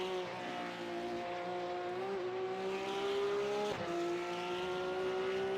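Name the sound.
Cup race cars at Hockenheim in iRacing video game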